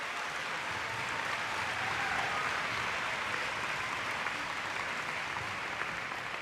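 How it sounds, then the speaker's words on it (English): Audience applause at a celebration for the Maysville basketball state champions: a steady, fairly faint wash of clapping from a crowd that holds evenly throughout, with no voices over it. "So give yourselves a round of applause because you're great."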